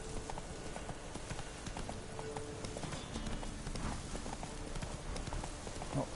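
Horse hooves gallop in The Witcher video game. A steady, rapid clip-clop of hoof beats runs throughout over a constant game ambience.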